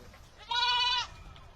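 A single goat bought at a market gives one loud, close, tonal bleat lasting about half a second against quiet background noise.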